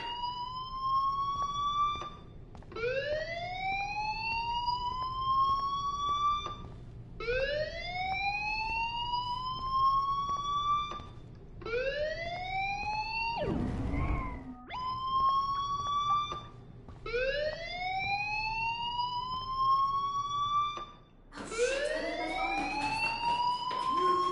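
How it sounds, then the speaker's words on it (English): An electronic fire alarm wails in repeated rising sweeps inside a game. Each tone climbs over about two seconds and the cycle repeats steadily, with a brief burst of noise partway through. No one speaks. "Hey, do you hear that fire alarm?"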